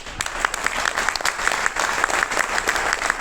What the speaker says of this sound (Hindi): ताली बजाने खुल के बजाओ, नहीं बजाने मत बजाना है प्लीज